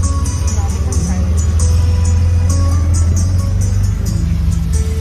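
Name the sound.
auto rickshaw ride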